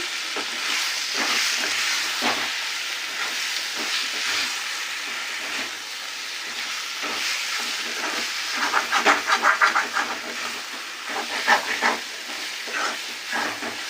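Egg curry with coriander powder sizzles in a pan while a spoon stirs it. Scraping and stirring strokes come in bursts over a steady frying hiss, busier toward the end, with no voices.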